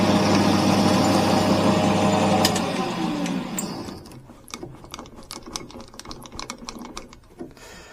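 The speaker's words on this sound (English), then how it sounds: "you can see how well this machine parts off" A Maximat V10P lathe parts off a bar with a Kennametal parting tool. A steady humming, grinding machining drone runs for about two and a half seconds, then fades and gives way to scattered light ticks and clicks.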